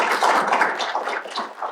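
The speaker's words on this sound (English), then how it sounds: "So please join with me in special applause." Audience applause at a lecture event, a steady broadband wash of many hands clapping, moderately loud and continuous with no voices over it.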